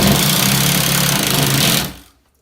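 Power drill driving a screw into a wall anchor while mounting a 30-inch Hampton Bay bathroom cabinet above a toilet: a steady, loud motor whir runs for about two seconds, then cuts off abruptly into quiet.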